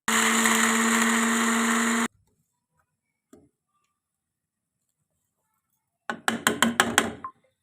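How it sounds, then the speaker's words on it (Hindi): An electric grinder powders two handfuls of roasted chickpeas for a besan halwa, roaring loudly and steadily for about two seconds, then short whirring pulses after a pause. "2 मुट्ठियाँ चने जो है इनका हम पाउडर बना के डालेंगे अपने हलवे के अंदर, ग्राइंड कर लेंगे"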